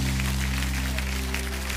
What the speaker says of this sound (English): Give them a great big clap offering.